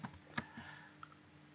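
Typing on a computer keyboard while entering a link into HTML code, a few quiet scattered key clicks with one sharper tap, soft and close.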